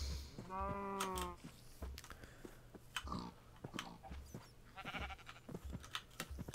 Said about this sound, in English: Looks like I've got sheep as well.